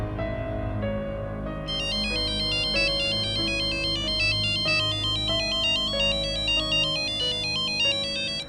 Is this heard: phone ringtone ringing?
yes